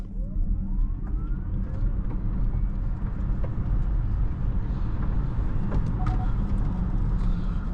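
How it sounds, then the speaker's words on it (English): Kia EV6 GT-Line electric car accelerating hard in sport mode, a rising electric motor whine sweeping upward over dense, loud road and tyre rumble throughout. "let's do our test on how fast this car can go from 0 to 100"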